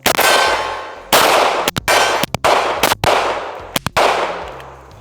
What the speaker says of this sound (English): So we're gonna be shooting the steel on the far right.